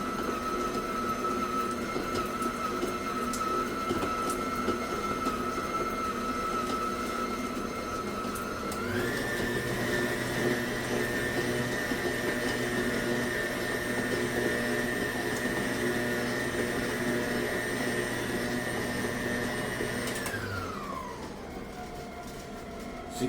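An electric stand mixer beats butter for an eggless cake, its blade not reaching the bottom of the bowl. A steady motor whine and whir run loud and close, step up to a higher speed partway through, then wind down near the end.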